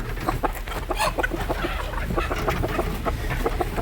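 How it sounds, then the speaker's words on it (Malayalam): Hens cluck inside a backyard coop, a busy, overlapping chorus of short clucks, close and steady throughout. "നമ്മളെ കൂട്ടിലുള്ള കോഴികളെയൊക്കെ തുറക്കാൻ വേണ്ടി വന്നാണ്"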